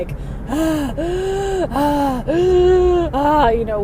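A voice imitates the wheezing, gasping breaths of a climber near a summit: a run of drawn-out, strained voiced gasps, close and loud, one after another with brief pauses.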